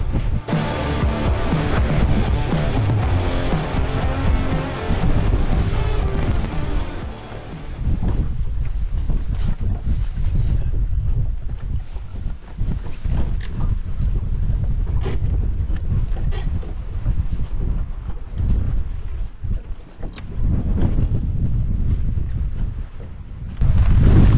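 Strong wind on Lake Havasu during a bass fishing outing, with loud continuous roaring and buffeting across the microphone and faint boat and water noise underneath.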